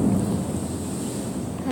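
Minecraft thunderstorm with a steady rumble of thunder and rain washing over everything, loud and continuous without a break.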